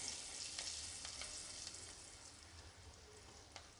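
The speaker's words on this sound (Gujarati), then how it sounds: "આ રીતે તેલમાં લોટ ઉમેરી દેશો એટલે લોટ તેલ સાથે સારી રીતે સંતળાઈ જશે।" Gram flour roasting in hot oil for a Dhaba-style bottle gourd and chana dal curry base, a steady soft sizzle with faint occasional stirring clicks, close and even throughout with no talking.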